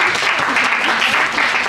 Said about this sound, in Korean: 그래서 사무기한테 다시 한번 큰 박수로 격려하겠습니다.